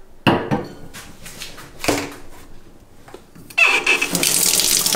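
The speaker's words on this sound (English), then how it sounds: "right over here I have my sink, which is where I want to go ahead and just fill this bottle up with some water" Kitchen sink tap runs into a stainless steel water bottle, with scattered clinks and handling knocks before a steady loud hiss of filling water takes over, close by with no talk.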